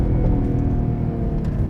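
Mercedes-AMG GT 43 4-Door in sport mode giving a loud, close exhaust drone, low and steady for under two seconds with slight pulsing.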